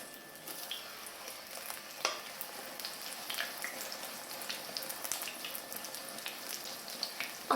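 Romanian flatbreads filled with cheese and onion fry in oil in a hot pan, giving a steady, fairly quiet sizzle with small pops and crackles throughout.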